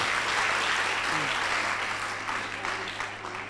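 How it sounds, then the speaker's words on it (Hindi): A dense wash of audience applause fills the room for a guest, loud and continuous from start to finish over a low steady hum. "उदयन आर्य जी के लिए जोरदार ताली बजा दो भाई"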